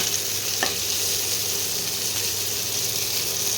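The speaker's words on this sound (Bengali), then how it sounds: "পেঁয়াজটা ভাজা ভাজা হয়ে এসছে" Continuous loud hissing sizzle of onion frying in a pan for a fish dish, with one brief stir-like knock early on; no voices.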